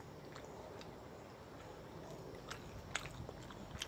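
Someone biting and chewing a Burger King taco with lettuce, a faint close crunch and soft mouth sounds over a steady background hiss, a few sharper bites near the end.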